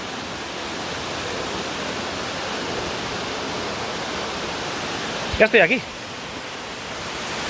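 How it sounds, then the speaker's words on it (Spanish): The Nocedo waterfall cascading as a steady, broad rushing roar that fills the whole stretch, heard from close by, with a short spoken phrase partway through. "noto la brisa que provoca el salto de la cascada"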